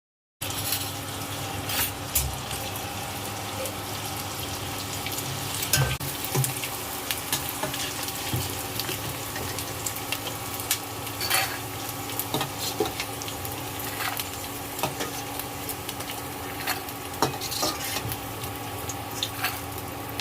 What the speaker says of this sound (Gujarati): તેમાં આપણે ગુંદ તળી લઈશું